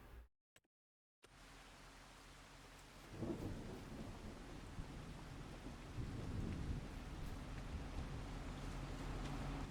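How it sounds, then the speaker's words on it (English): Rain and thunder in the video game Farming Simulator 25: a steady rain hiss with deep thunder rumbling in and growing after a short silent gap. "But it's raining."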